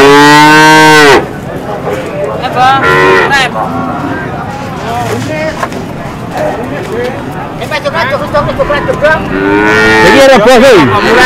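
Cattle moo loudly and close by at a cattle market in Pati, with long, low calls at the start and end, while people talk and a crowd murmurs throughout.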